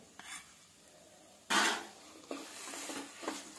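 A spoon scrapes and stirs beetroot halwa with ghee in a pan, a few soft scraping strokes with one louder clatter, quiet and close with no talking.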